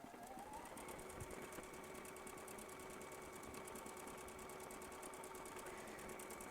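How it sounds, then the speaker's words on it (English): A Pfaff Performance Icon sewing machine stitches stacked decorative stitches, a fast, even mechanical rattle running steadily and close throughout, with no talking over it. "now I'm going to go ahead and stitch the second part out"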